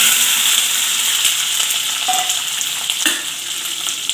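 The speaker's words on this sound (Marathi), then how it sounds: "ह्या सेम कढईमध्ये मी 1 पळी तेल घालून घेते आणि जो आपण मटार घेतलेला होता तो घालून घ्यायचा आहे" Green peas sautéing in hot oil in a kadhai, a steady close sizzle with a few scraping stirs and clinks, no one speaking.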